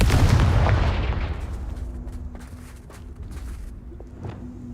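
Confringo fire spell in Hogwarts Legacy bursts with a loud booming blast that decays into a rumbling tail, followed by lighter game effects and small pops, no voices.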